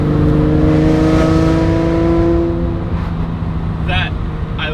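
Lamborghini engine held around 3,000 RPM, giving a loud, steady raspy metallic drone with layered harmonics that sags slightly in pitch, close to the car; a couple of faint clicks near the end.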